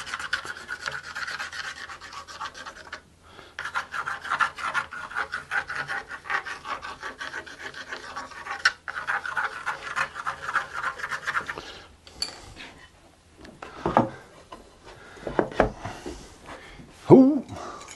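A guitar fretboard being radius sanded by hand with cloth-backed sandpaper, a steady rhythmic rasping rub of strokes back and forth, broken by brief pauses and a few knocks near the end.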